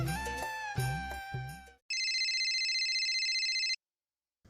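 A short run of musical tones, then a bright electronic phone ringtone trilling steadily for about two seconds before cutting off into silence.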